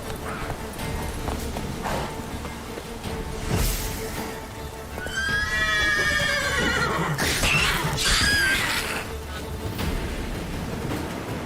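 Roach, the horse in The Witcher 3, gives a loud, wavering whinny in the middle, over a busy bed of game sounds and background noise.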